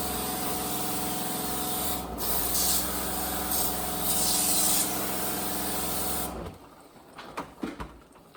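A steady broadband hiss of water spray rinses the evaporator coil of a Fujitsu mini split left unserviced for years, running loud and continuous for about six seconds before cutting off, followed by faint clatter.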